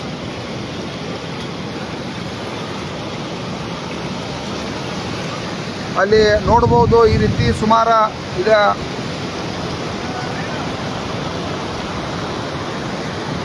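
Heavy flow of river water released from the Hidkal dam rushing over falls, a steady broadband roar throughout, with someone talking over it in the middle.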